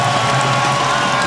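Basketball arena crowd at a Rockets home game against the Hornets, a steady, dense roar of cheering and whooping that fills the whole moment without letup.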